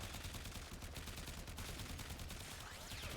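Lato Vandal pistol firing in the Warframe simulacrum: rapid, faint, repeated gunshots in a dense stream at low volume, with no voices.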